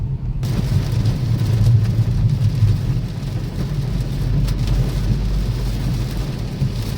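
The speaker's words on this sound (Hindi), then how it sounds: "हैदराबाद में भी जम के बारिश हो रही है।" Heavy rain pours down steadily in Hyderabad, a dense close hiss with a deep rumbling undertone that holds level throughout and has no talk over it.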